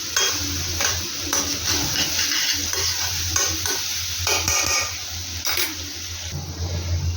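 Ginger, garlic and green chilli paste frying with mushrooms in a pan, a steady close sizzle broken by repeated scraping stirs and light clinks of a utensil against the pan.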